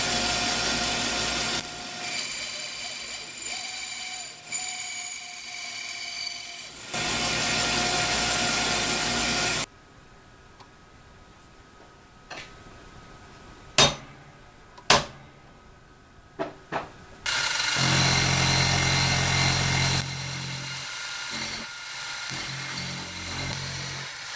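Fly cutter held in a router's ER collet milling vise jaws, a loud high whirring cut in several long passes, separated by quiet stretches with a few sharp metallic knocks.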